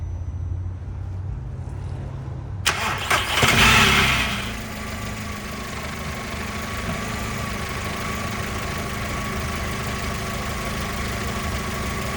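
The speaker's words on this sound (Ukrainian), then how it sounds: "Запустіть, будь ласка, двигун." A 2002 Skoda car engine cranks and catches, briefly revving before settling into a steady, close idle that continues alone for several seconds.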